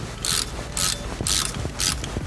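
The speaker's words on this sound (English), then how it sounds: "when you're backing these hub retaining bolts out, don't take them all the way out" A ratchet wrench backs out car hub retaining bolts during a ball joint replacement, giving rapid clicking bursts in four regular pulls, close and loud.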